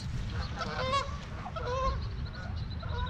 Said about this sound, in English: She chased after all the little geese.